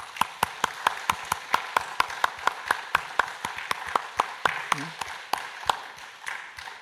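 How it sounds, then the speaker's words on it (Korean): At an Easter dawn church service, sharp evenly spaced claps repeat in a steady rhythm, close and fairly soft, with faint murmuring underneath. "우리 하나님 앞에 박수 한번 돌려주십시다"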